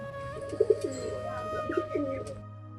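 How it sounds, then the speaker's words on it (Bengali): Pigeons coo softly and repeatedly at close range during feeding, a series of low rolling calls over a quiet steady hum, ending in a brief louder knock. "সব কটা কবুতরই রয়েছে এখানে"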